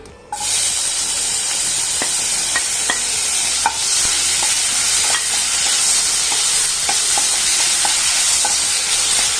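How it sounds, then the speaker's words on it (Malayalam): Steady loud sizzling of crushed onion and ginger frying in hot oil, with scattered clicks and pops of stirring throughout, no voices. "ഇനി ഇതിനകത്തേക്ക് ചതച്ച് വെച്ചിരിക്കുന്ന ഉള്ളിയും ഇഞ്ചിയും ഇട്ട് കൊടുക്കാം"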